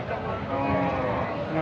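At a cattle market in Madhabpur, Habiganj, a bull or cow gives a low, drawn-out moo, close and fairly loud, with market background around it.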